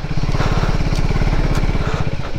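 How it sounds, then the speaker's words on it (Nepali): A scooter engine drones steadily while riding along a road, its buzzing putter loud and close, with wind noise throughout and no talking. "ल स्कुटर यस्तरी इजिली आइरहेछ"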